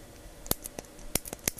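A mechanical pencil held close to the microphone clicks repeatedly in quick, uneven bursts. The clicks are sharp, fairly loud and crisp, some paired together, with no voice.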